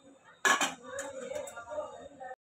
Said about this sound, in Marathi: आता झाकण लावून घेते.